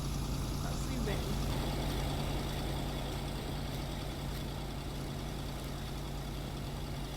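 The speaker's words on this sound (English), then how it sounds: "That car is loud." A car engine idles in the Kona game, a steady low rumble with a constant hum that holds at even loudness throughout, without pauses or revving.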